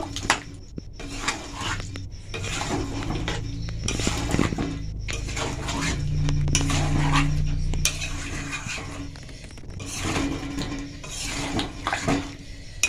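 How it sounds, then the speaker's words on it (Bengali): Potatoes are mixed with spices in a pan in repeated, rhythmic scraping strokes of a spoon against the metal, each burst close and clear over a low background hum. "ভালোভাবে আলুটার সঙ্গে মশলাটা মিশিয়ে নেব"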